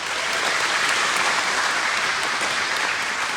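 Steady, dense applause from a band concert audience at a high school, loud and continuous throughout with no gaps.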